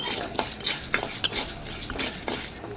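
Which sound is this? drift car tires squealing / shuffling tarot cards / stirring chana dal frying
stirring chana dal frying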